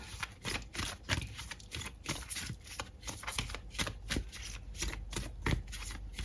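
Tarot cards shuffled by hand in a rapid, continuous riffling patter of close, crisp card slaps with no talking.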